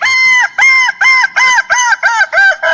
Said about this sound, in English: the song from Kokok Balengge chicken. I mean the Pelung chicken. Pelung chicken long, the duration of crow is very long than the another song chicken.